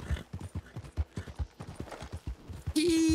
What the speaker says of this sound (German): Komm, wir reiten mal zu Fremden.